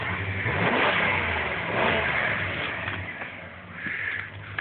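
Engine of a 1992 Dodge pickup revs hard in snow while pulling down a hung-up black locust tree, rising and falling surges of mid-pitched engine roar at moderate distance, with no talking.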